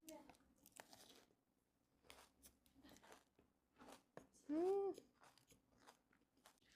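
Someone bites into crispy kremes topping on nasi padang, with several crunchy bites and chewing scattered between short bursts of nearby talk.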